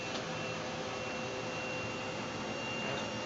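Compressed air blown steadily through a spinning filter wheel, a loud, even rushing hiss with a faint high whine, constant and close for the whole moment.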